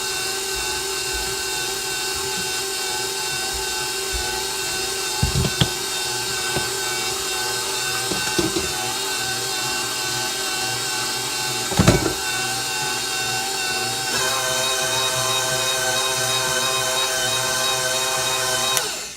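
A mixer kneads vegan cinnamon roll dough with a steady droning motor hum. A few knocks and clunks break through, and the tone shifts slightly near the end.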